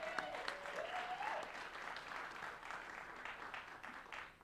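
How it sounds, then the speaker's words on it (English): Audience clapping steadily after tenor saxophone players at a school winter instrumental concert, a sustained close wash of applause with a brief whistle near the start. "Another round of applause for our two tenor saxophones, Max Abraham and Ryan Richard."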